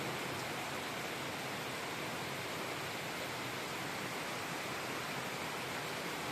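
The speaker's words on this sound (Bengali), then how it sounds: "দেখলেন তো কি জোরে বৃষ্টি হচ্ছে।" Heavy rain pours down outdoors as a dense, unbroken hiss that holds at an even level, with no voices or other distinct sounds.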